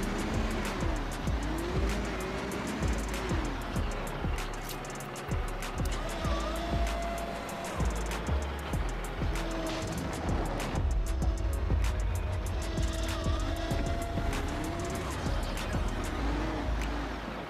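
Construction vehicle driving in the PS5 game Construction Simulator, a steady engine drone with rhythmic mechanical clunks and occasional tire-like squeals running throughout.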